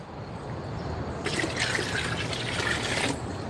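Water from a jug or can poured onto garden plants outdoors, a steady close splashing and trickling stream that runs for a couple of seconds amid background hiss.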